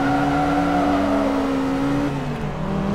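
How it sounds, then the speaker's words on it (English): Race car engine in Forza Motorsport 2 during a Class C event, a steady loud whine with harmonics that drops in pitch near the end, tires spinning under the engine drone with no talk. "A lot of wheel spin."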